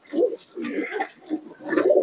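Caged pigeons at a Murshidabad pigeon market coo in four rounded, throaty phrases, close and clear, with a thin higher call riding over each one and no talk.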